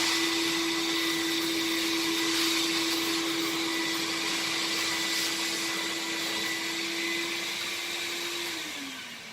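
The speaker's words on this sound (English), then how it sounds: "put our vacuum on." A Columbus TA 50 / K 50 carpet injection-extraction cleaner's vacuum motor runs steadily and loudly with a constant whine, dropping in pitch slightly near the end as it begins to wind down.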